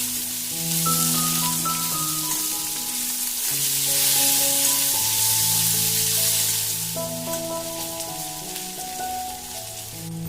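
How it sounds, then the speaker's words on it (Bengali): Chopped onions frying lightly in a pan for a Bengali fish-head moong dal, with cumin seeds and sugar added: a steady sizzle beneath background music throughout. "পেঁয়াজগুলো হালকা ভেজে দিয়ে দেব"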